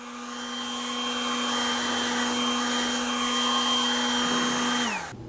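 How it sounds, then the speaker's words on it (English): A Milwaukee M12 compact spot blower, a cordless mini leaf blower, runs with a steady, loud whine and rushing air for about five seconds, then cuts off and spins down sharply. "First up, we got a compact spot blower. So this is like a mini leaf blower."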